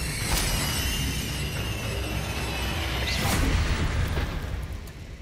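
A Confringo blasting spell erupts in the video game Hogwarts Legacy, a loud fiery boom with a crackling burst, sitting within a dense, continuous rumble of combat effects that swell slightly midway.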